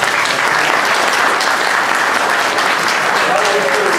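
A retirement party crowd applauds loudly and densely. The clapping stays sustained and even throughout, with voices murmuring underneath.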